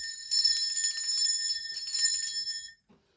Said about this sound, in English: I'm going to be ringing a bell.